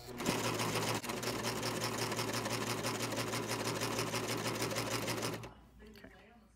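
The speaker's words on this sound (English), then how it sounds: "this time I used my cover stitch on my elastic" A cover stitch machine sews elastic onto homemade undies in one fast, even run of rapid rhythmic clatter, close and loud, then stops abruptly before the end.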